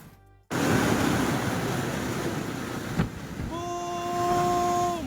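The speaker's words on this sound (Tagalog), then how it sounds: "Sintaas ng dalawang palapag na gusali ang mga alon na humampas sa Vera Catanduanes Sabado ng umaga." Storm surf from Severe Tropical Storm Pepito pounding the shore at Vera, Catanduanes, a loud, continuous roar of crashing waves with a sharp thud midway and a sustained tonal whine toward the end.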